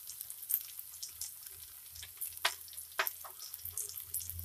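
Ground spices frying in oil for Punjabi chole masala, a soft close sizzle with intermittent sharp crackles and spoon scrapes as the mixture is stirred.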